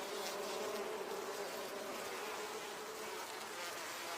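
A honeybee colony buzzes inside its hive as a dense, steady swarm hum with no break across the whole stretch.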